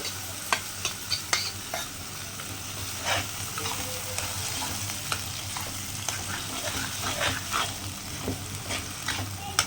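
Ground masala sizzles in hot oil with fenugreek for a tamarind curry of okra, a steady frying hiss broken by repeated scraping strokes of a spoon stirring the pan.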